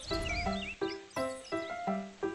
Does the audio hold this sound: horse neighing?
yes